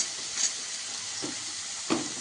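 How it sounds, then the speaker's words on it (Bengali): Onion and green chilli fry in a pan for egg chowmein, a continuous even hiss of oil with a few soft spatula scrapes breaking through; no voices. "পেঁয়াজটা একটু ভাজা হয়ে গেলে তারপর আমি টমেটোটা দেবো"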